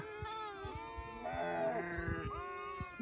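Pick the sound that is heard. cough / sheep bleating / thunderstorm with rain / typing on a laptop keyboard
sheep bleating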